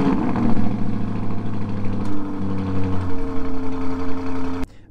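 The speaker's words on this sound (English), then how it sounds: "let me show you the startup of the Urus Performante" A Lamborghini Urus Performante's Volkswagen-group V8 cranks and fires, rising into a loud rev before settling to a steady, burbling idle, close by with no talk, then cutting off abruptly at the end.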